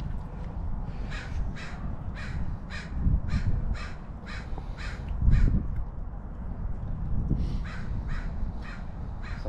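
Crows caw in a regular, repeated series of harsh calls at a cemetery, with a second run after a brief pause, heard over a steady outdoor rumble and with no talk.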